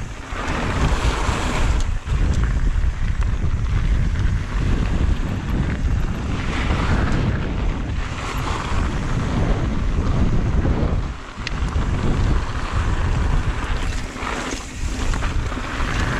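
Strong wind roars and buffets the microphone continuously while mountain biking at Curt Gowdy State Park in Wyoming, a loud, unbroken rush with gusty swells and no talking.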